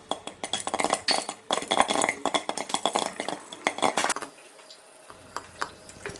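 Popcorn kernels popping in a covered pan over a medium flame: dense, rapid clusters of sharp pops and rattles at close range that thin out and grow sparser toward the end, with no talking.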